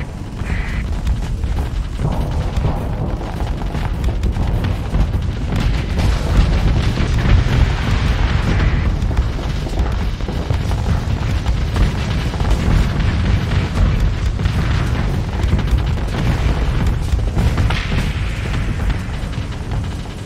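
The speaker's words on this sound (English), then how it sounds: "Wow, bombs." Bomb explosions in the space combat game StarSector form a continuous, dense rumble of booms and bursts, loud and steady throughout with no break.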